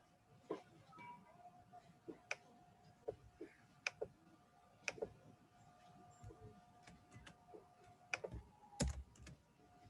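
Irregular clicking keystrokes on a computer keyboard while a project name is entered, soft and close against a quiet room hiss, with a louder cluster of taps near the end.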